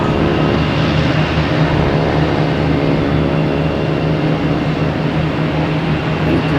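American Airlines airliner arriving from JFK at Boston Logan Airport, a sustained, loud, droning engine rumble with layered tonal hum, steady throughout and free of talk.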